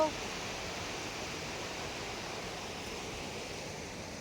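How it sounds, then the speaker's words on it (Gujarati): Rushing water pouring into a dam after monsoon rain, a steady, even roar of broadband noise that holds at a constant level from start to finish with no voices. "પાણીનો જોર વધારે છે એટલે થોડુંક અવાજ આવે પાણીનો"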